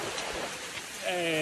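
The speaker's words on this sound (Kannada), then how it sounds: "ಒಳ್ಳೆ ಮಳೆ" Heavy rain falls outdoors in Uttara Kannada, a continuous hiss of drops close by, and near the end a voice begins speaking over it.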